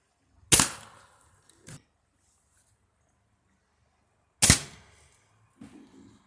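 A Ruger Targis Hunter Max .22 caliber air rifle fires pellets, two sharp loud cracks several seconds apart, each followed by a faint impact or mechanical click, with no talking.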